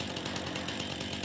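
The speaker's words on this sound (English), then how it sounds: "I did invest in a chainsaw off camera" A chainsaw in Farming Simulator 19 cuts into a tree with a steady, close, droning engine whine and slight rhythmic pulsing, heard alone without speech.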